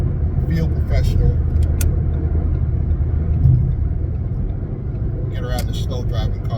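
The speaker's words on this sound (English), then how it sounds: "Get around the slow driving car." Steady road rumble from inside a moving car, a continuous low engine and tire drone with someone talking over it throughout.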